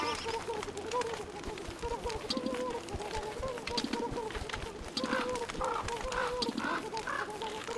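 A bird in the video game Don't Starve gives repeated clucking, chirping calls over game music and ambience, with someone talking at times.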